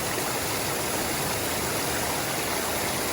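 River water from the Yuba River washing over gravel, a steady, full rushing wash that stays close and constant throughout with no voices.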